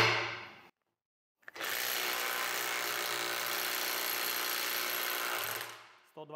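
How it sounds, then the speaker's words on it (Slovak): Cordless power tool on a 4 Ah battery in mode 2 loosening screws: one loud, sustained burst of whirring and hammering lasts about four seconds after a brief silence, then tails off. "Teraz všetky skrutky vyskúšam povoliť so 4 Ah batériou na režime 2."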